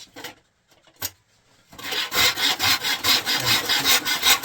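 A handsaw cuts a chunk off a piece of wood in a workshop: a few scattered scrapes and knocks, then a quick, regular back-and-forth rasping stroke rhythm, loud and close, with no talking.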